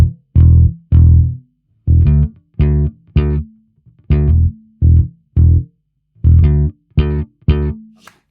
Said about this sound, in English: BOD-2 bass drive, it sounds like this.